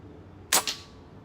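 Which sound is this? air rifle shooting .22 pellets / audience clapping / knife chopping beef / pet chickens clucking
air rifle shooting .22 pellets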